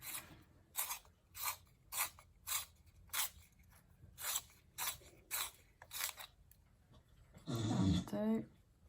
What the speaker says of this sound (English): That was my dark moss staffy having a big snort.